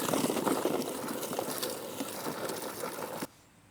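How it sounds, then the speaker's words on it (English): A Sun Joe SDJ602LS manual leaf sweeper rolls over a lawn scooping up sweet gum balls, its brushes giving a steady close whirring rattle for about three seconds before stopping abruptly. "Hopefully it has an easier time scooping these up."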